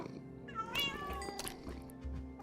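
Minecraft cats meow in a video game during breeding, a couple of clear, close mewing calls rising and falling over a faint steady background.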